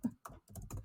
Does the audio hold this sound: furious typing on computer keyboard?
yes